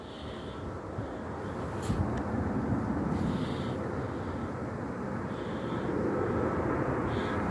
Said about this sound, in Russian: И самолеты надо мной в Шереметьево летят.